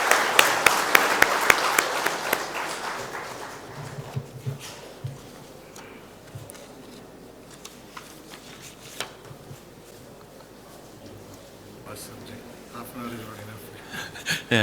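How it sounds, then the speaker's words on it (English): Applause at a symposium after a presentation, dense clapping at the start that thins and fades, followed by scattered claps, murmurs and quiet room noise. "Applause, please."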